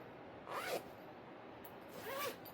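A small fabric zipper tote bag's zipper is pulled twice, two quick rasping zips about a second and a half apart, close and clear over quiet room tone.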